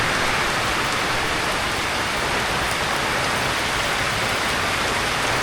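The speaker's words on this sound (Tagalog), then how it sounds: "Ang lakas ng ulan." Heavy rain pours down steadily in the Philippines, a dense, loud, unbroken hiss of downpour on surfaces throughout, with no voices.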